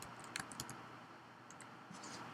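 A name being typed on a computer keyboard at a desk, quick light key clicks coming in short bursts with pauses between them, close but faint over a quiet room hiss.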